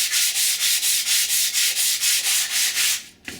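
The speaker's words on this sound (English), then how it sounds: "I can start sanding for serious now" Sandpaper worked by hand over a foam model aircraft wing. Steady back-and-forth rasping strokes, about a dozen in an even rhythm, loud and close, then a brief pause at the end.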